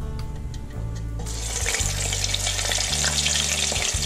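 Catfish and scallops coated in Louisiana Fish Fry fry in hot oil, a loud, dense sizzle that swells as pieces go back in, over a low steady hum, with no talking.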